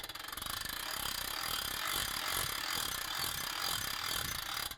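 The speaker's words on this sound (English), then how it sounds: "and crank it up to the 20-foot mast" Hand crank on a Wanco solar light tower ratcheting as the telescoping mast is raised toward 20 feet, a steady close mechanical clicking and whirring that runs without a break.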